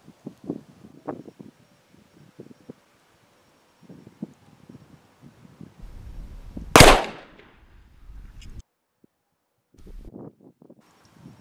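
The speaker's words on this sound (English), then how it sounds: "the gun I'm going to be firing these 100 metres out of is a Miracu 7000" A single loud shotgun blast from a Miracu 7000 with quarter choke firing a long-range shotshell outdoors, sharp and close, followed by a short fading echo amid light wind and rustling.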